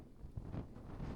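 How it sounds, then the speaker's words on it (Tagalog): Strong gusting wind on a rocky mountain summit buffets the microphone in a brief, rough, fluctuating roar, close and moderately loud. "malakas ang hangin"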